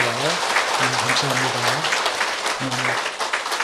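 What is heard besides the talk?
applause welcoming a first-time church visitor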